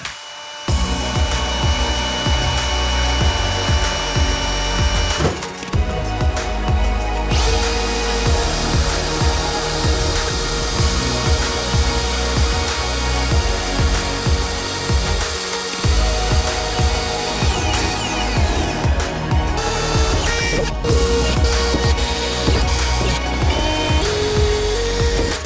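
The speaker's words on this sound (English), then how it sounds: "All the holes drilled." Power drill boring holes during a Cummins-swapped square body K30 NP205 adapter install, a loud continuous whine with brief pauses between holes, near and steady.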